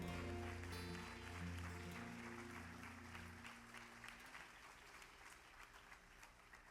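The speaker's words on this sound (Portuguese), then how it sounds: "Glória ao Rei, aplauda ao Senhor." A church congregation applauds during a Sunday worship service. Sustained clapping starts under fading music and singing, then continues alone as the music drops away.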